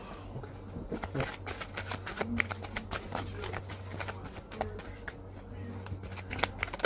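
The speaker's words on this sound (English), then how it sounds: "I am going to pull a couple of these cards." Tarot cards are shuffled and handled close up, giving a run of crisp riffling flicks and soft slaps over a low steady hum, with a voice speaking at times.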